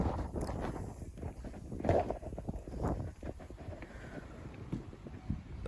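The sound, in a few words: strong icy wind blowing by the sea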